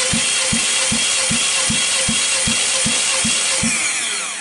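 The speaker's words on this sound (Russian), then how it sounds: "Замер компрессии двигателя." A Kia Rio engine, 2005–2011 generation, cranks on the starter during a compression test, with steady rhythmic pulses of about two per second over a continuous whirring drone throughout.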